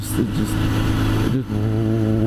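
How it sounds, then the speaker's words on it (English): A 1996 Yamaha FZR-600 motorcycle with a Vance & Hines exhaust rumbles close by with a deep, throaty exhaust note and a brief rev before settling back into a steady hum. "I just love the sound of it too. It has a Vance & Hines exhaust."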